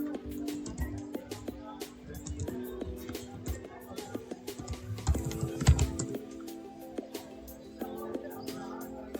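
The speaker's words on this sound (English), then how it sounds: "I'm just type my mail address for renewal." Rapid, irregular clicks of a computer keyboard as an email address is typed, close and fairly quiet, with uneven bursts of keystrokes and brief pauses.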